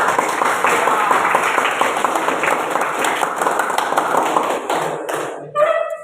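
Classroom students clap their hands together in a brisk, fairly close round that stops abruptly near the end, followed by a brief murmur of voices.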